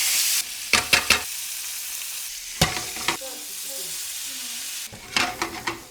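Leftover trevally pan-frying in a pan, a steady soft sizzle broken by several clattering stirs and scrapes of a utensil against the pan.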